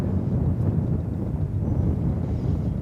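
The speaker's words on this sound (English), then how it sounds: "you can hear the wind in the background once again" Steady wind buffets the microphone at an open airport viewing plaza, a constant low rumbling roar with no voices and no distinct events.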